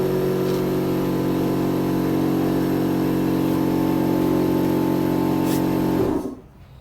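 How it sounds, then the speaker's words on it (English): A small, noisy air compressor runs during a car rear-brake job, giving a loud, steady droning hum with a constant pitch that cuts off abruptly near the end, leaving near-silence. "noisy little air compressor."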